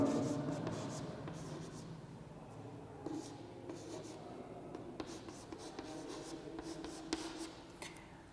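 Marker or chalk strokes on a board while writing out electron configurations in a chemistry lesson, light scratchy scribbles in short bursts, faint and close, with quiet speech briefly in the background.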